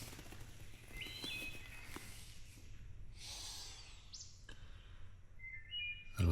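Birds sing and chirp in woodland in the early morning, scattered short calls and trills coming at a moderate distance over a steady low background rumble, with a louder bird call near the end.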